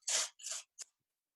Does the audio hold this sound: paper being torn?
yes